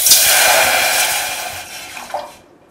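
Water poured into a cooking pot for modak dough, a loud close splashing rush that gradually thins out, ending with a few small drips and then silence.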